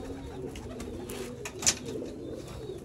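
Red-eyed pigeons held close by hand in a Sialkot border-area loft give soft, low cooing, a steady murmur with one brief sharper sound partway through.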